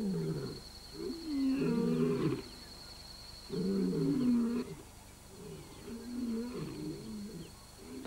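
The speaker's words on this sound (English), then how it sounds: "Bachelors' challenging roars stop the pride males in their tracks." Bachelor male lions roar in challenge, a run of deep, throaty grunting roars in repeated bouts, moderately loud with a steady background hum.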